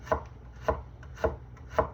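A knife chops a piece of ginger into tiny bits on a cutting board, four steady, evenly spaced thuds, close and clear with no talking.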